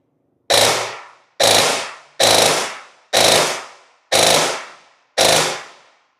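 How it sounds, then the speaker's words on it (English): A modified Classic Army dual barrel airsoft gun fires six sharp, evenly spaced reports, each a loud close crack with a quick decay, heard alone. "We'll just do a full auto burst."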